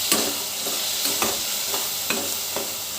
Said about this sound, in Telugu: ఇవన్నీ బాగా ఒకసారి కలుపుకోండి.